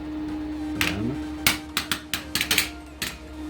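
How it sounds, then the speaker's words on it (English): An amateur hammers a metal hinge salvaged from pallet wood to flatten one side, giving a burst of sharp, ringing close-up strikes in an uneven rhythm over a steady background hum. "Here I'm trying it out, hammering away as an old amateur."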